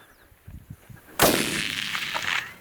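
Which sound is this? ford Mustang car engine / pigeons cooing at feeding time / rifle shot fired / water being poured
rifle shot fired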